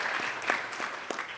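Brief applause from an audience at a conference on vaccine equity for Africa after an honorable minister speaks, a moderately faint patter of clapping hands with a few sharper claps standing out over a short span.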